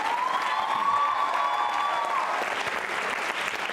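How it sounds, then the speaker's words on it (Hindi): A school quiz show audience applauds a participant, dense steady clapping from many hands fading slightly toward the end, with a faint tonal whistle-like sweep early on. "ये तालियां जोरों से बजाइए आयुषी के लिए"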